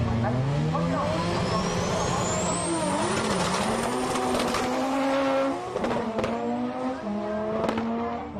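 A Toyota AE86 drag car with a 2JZ Supra engine roars loudly up close at a Japanese drag meet in Sendai, its pitch climbing steadily as it revs hard, then dipping and surging again near the end.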